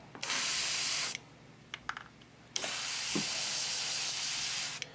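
Spray paint hissing onto a collectible Wolverine statue during a paint chip repair, two long steady close bursts separated by a quieter gap holding a few small clicks and taps.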